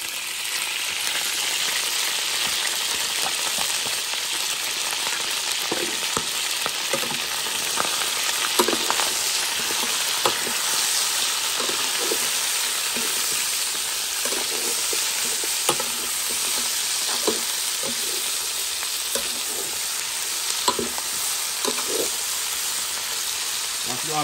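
Onions frying in a hot pan for chicken masala, a steady close sizzle and hiss running throughout with scattered crackles and light stirring clicks, no talking.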